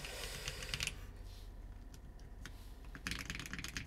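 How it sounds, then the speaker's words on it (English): Typing on a Parallel BEAM65 mechanical keyboard, bursts of crisp, close key clicks in uneven runs with short pauses between them. "Wait till I type on it."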